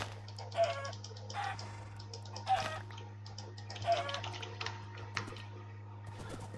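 Minecraft chickens cluck in several short bursts over a steady low hum, fairly close, with no talking.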